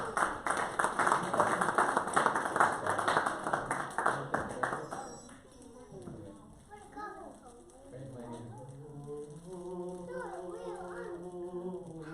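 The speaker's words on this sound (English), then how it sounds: "So a round of applause, please, for Nathaniel Norton." Audience applause for a theater performer at a one-man show, a dense burst of clapping lasting several seconds that fades out, followed by a voice speaking.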